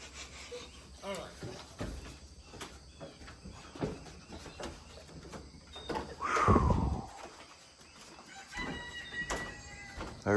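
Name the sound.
rooster crowing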